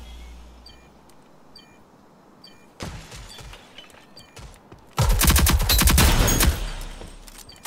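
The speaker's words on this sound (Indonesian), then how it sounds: "Siapa itu nembak aku gitu?" Gunfire in the Rogue Company video game: a moderate volley of rapid shots, a brief lull, then a louder, sustained burst of automatic fire that cuts off abruptly.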